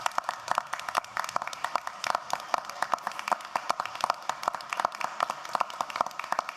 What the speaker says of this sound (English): as they stand, a round of applause